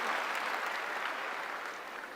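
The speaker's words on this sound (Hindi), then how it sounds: "जोरदार ताली हो जाए" An audience at a motivational testimony event claps in dense, steady applause that fills the room. It is moderately distant, holds evenly for the whole moment and fades slightly at the end.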